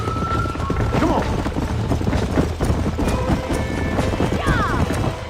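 Horses trotting in the video game Red Dead Redemption, with steady clip-clopping hooves over ambient game noise, a loud continuous rhythm, and a few whistling tones mixed in.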